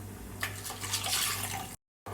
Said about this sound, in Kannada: ಸೊ ಇದಕ್ಕೆ ಸ್ವಲ್ಪ ನೀರು ಸೇರಿಸ್ಕೊಳ್ಳೋಣ.